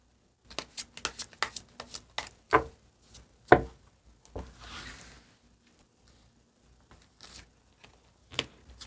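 Tarot cards being shuffled and drawn, heard as a quick run of crisp riffles, snaps and slaps, then a softer sliding shuffle followed by a few sparse taps, all close and fairly quiet.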